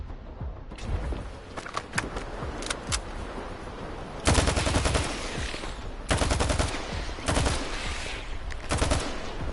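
Gunfire in STALKER 2: scattered single shots early, then loud sustained automatic bursts at close range in three long volleys with brief gaps, no voice over it.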